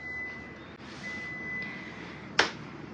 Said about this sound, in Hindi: बाकी आपको अलार्म की आवाज़ सुनाई दे रहा होगा,